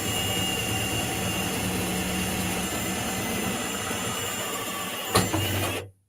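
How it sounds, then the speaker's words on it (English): A continuous high whine of a power drill boring into metal while cutting apart a car, steady and close, ending with a clunk and a brief rattle before cutting off. "That's my least favorite sound when I'm cutting a car apart, is a drill bit."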